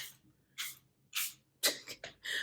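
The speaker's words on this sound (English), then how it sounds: "I'm glad I do the test spray" Repeated short hissing bursts of an aerosol makeup setting spray, close and fairly soft, coming in an irregular series of quick pumps.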